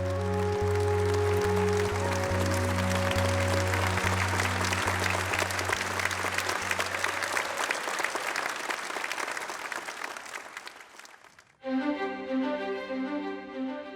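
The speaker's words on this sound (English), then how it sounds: "Please give Chef Julie Walsh and her team a huge round of applause" Applause for Chef Julie Walsh and her team after their royal wedding cake, a broad wash of clapping over sustained tones that fades, then gives way to brass-like music.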